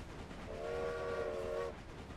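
Steam locomotive whistle in the railway strategy game Railway Empire, a single steady multi-tone blast lasting about a second over a low rumbling train bed, fairly faint, with no talk.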